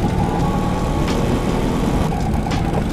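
An antique Vespa scooter engine runs steadily close by, a continuous loud buzzing drone with slight fluctuations and no speech.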